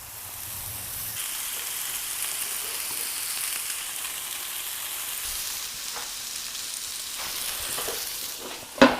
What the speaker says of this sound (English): We are heated up and I can hear the sizzle.